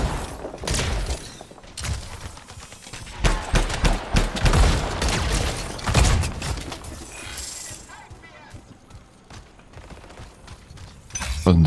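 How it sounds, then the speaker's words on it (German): A grenade goes off in the sci-fi shooter game Anthem amid a dense barrage of gunfire, thuds and metallic clatter, loud and continuous with a sharp burst near the middle, while someone talks over the action. "Granate ins Gesicht."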